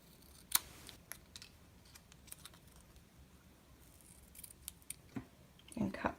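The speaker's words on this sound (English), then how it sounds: "And snip the end off." Scissors snip through craft material for a pug and tie bookmark, a sharp cut near the start and another near the end amid faint handling clicks and rustles, with a voice speaking quietly.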